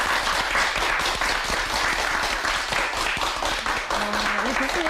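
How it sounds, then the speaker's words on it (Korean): Steady, dense clapping from a studio audience on a Korean Christian television talk show, greeting a soprano and voice professor, fills the whole stretch at an even, moderate level with no letup. "우리 교수님께서는 오늘 유난히 박수를 많이 치시네요."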